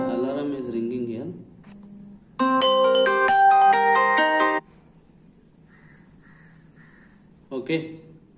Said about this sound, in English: Alarm is ringing here.